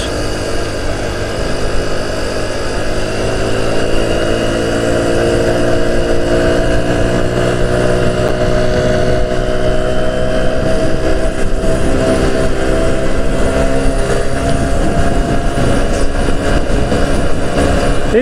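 A Revival 50cc motorcycle engine drones loudly and continuously while riding on a long road trip near Siirt, a steady buzzing hum with wind rush and no speech.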